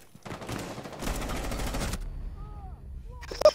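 Video game gunfire bursts out in rapid automatic shots, loud and close, ending in a sharp final crack; a voice briefly speaks in the gap.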